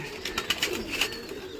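Pigeons coo faintly in a short outdoor stretch with no voices, the low murmuring calls sitting under scattered higher chirps and faint background sounds.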